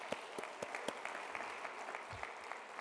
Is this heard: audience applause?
yes